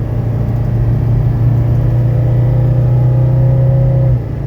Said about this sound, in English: We are going up a hill now, and we're accelerating uphill.